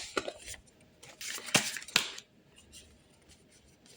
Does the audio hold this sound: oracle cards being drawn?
yes